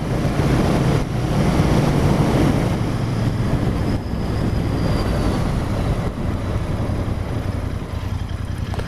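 Riding a Royal Enfield Interceptor 650 motorcycle, with a steady engine drone buried under heavy, buffeting wind rush across the microphone, continuous and loud throughout.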